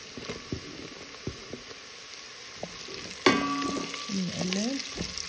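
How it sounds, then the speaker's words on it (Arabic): Onion and garlic fry in a pot: sparse clinks of a utensil stirring give way to a sudden loud sizzle that keeps crackling steadily, close up, with no talking. "بنقلب."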